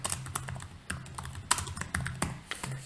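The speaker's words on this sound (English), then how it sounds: "I'm going to type capital budgeting model." Keystrokes on a computer keyboard tap out a short phrase in quick, uneven bursts, close and fairly quiet over a low steady hum.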